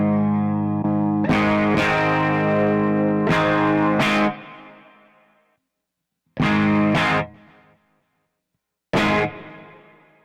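An electric guitar runs through a ToneX One on a wetter, higher-gain preset. Distorted chords ring out and fade into a reverby tail, then come short stabs separated by silence.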